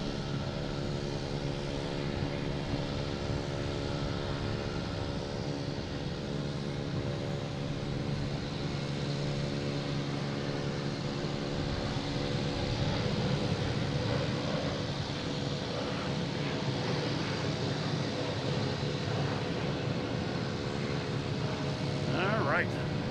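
An Emirates Airbus A350-900 landing at Boston Logan International Airport on arrival from Dubai, a steady broadband engine roar that holds at an even loudness throughout, with faint voices beneath it.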